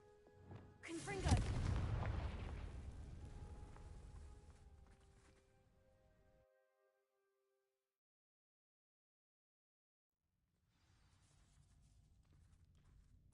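A Confringo spell blasts in the video game Hogwarts Legacy: one loud, sharp explosive burst that decays over several seconds. Silence follows, then a low, quiet ambience returns.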